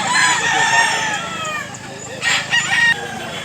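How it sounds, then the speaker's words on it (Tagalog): Roosters crow loudly and close by at a gamefowl market in Mantalungon, Cebu, one long cock-a-doodle-doo followed by shorter overlapping crows and clucks from other birds. "Nagambagay manok diri"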